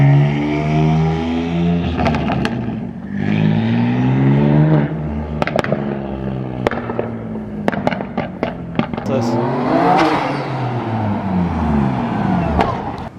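BMW F80 M3 with a big turbo, fitted with new wheels, accelerating hard: a loud, near engine roar rising through the gears, with sharp pops and crackles between shifts and brief voice fragments.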